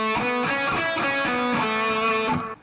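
An electric guitar with distortion plays a pentatonic scale box, a steady run of single picked notes moving up and down, loud and close, alone without talking.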